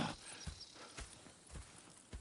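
Horse hooves clip-clopping in the Red Dead Redemption 2 video game, a few soft, evenly spaced hoof thuds at a slow walk, faint and quiet.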